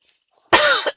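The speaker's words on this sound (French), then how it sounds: "si je pouvais arrêter de tousser" A person coughs hard and close, one long harsh rasping cough followed by the start of another, loud against near silence.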